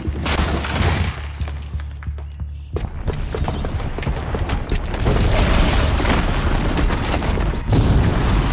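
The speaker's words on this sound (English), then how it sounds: "the booby trap on the bomb downstairs is gonna get set off" A bomb booby trap goes off in Horizon Zero Dawn: loud rumbling blast and crumbling debris swelling and sustained, with heavy low boom, no talk.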